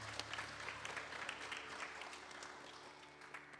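Faint, distant audience applause at a Sunday puja service, a steady patter of many hands clapping with a low hum beneath.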